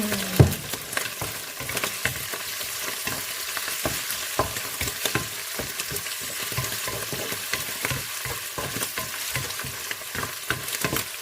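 Shrimp and squid stir-frying in a pan for seafood fried rice, giving a loud, continuous sizzle broken by rapid, rhythmic scraping and tossing strokes, with no voices.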